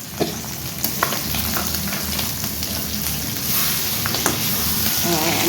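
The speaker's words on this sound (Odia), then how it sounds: "ଆମର ଏଠି ପେଟି ମାଛ ଭଜା ହେଇଗଲାଣି।" Belly pieces of fish sizzle and crackle in hot oil in a pan with onion and ginger-garlic paste, a steady dense frying hiss with occasional sharper pops.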